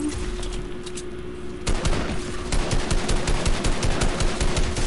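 Rapid automatic gunfire in the video game Fortnite, dense repeated shots in fast bursts that grow louder and more continuous partway through.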